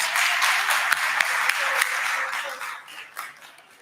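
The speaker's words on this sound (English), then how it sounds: "Can we give Judge Cassandra Kirk a round of applause?" A forum audience claps for Judge Cassandra Kirk, a lively burst of applause with a few sharp individual claps and voices mixed in, tapering off toward the end.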